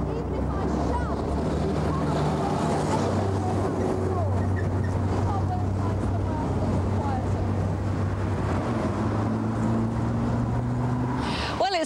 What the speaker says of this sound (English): well, it's still windy,